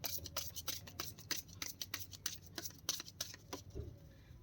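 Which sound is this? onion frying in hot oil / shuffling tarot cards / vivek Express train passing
shuffling tarot cards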